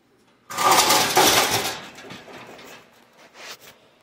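A drill bores out spot welds on a 1991 Camaro car body, giving a loud grinding whir for about a second and a half that fades into lighter scraping and a brief second burst.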